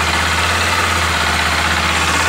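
A 2018 Honda XRE 300 motorcycle engine idles up close with a steady low drone, carrying a faint irregular knocking or rattling abnormal noise throughout, with no talk.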